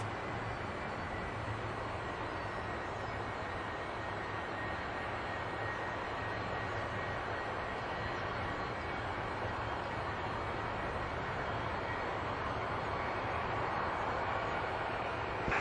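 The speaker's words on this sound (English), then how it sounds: "the left engine will still be running" A Boeing 757 jet engine keeps running on the ground after landing following a bird strike, giving a steady, unbroken roar heard from some distance, with no talking.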